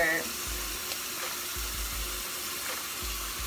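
Tap water runs steadily into a sink while hands are wet for washing the face, a continuous broadband hiss with faint splashes close by and no talking.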